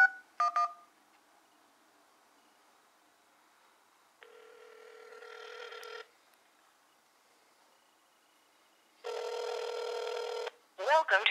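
Moto X phone placing a call on speakerphone: a few short dialing beeps, then two long electronic ringback tones separated by silence, ending with a voice starting to answer.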